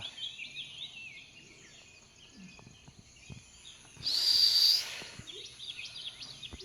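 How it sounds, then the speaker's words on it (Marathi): Birds chirp and twitter faintly in the background over light insect buzzing in misty outdoor weather, with a louder burst of high shrill calling midway. "पक्ष्यांचा किरबिलाट खूप छान मस्त"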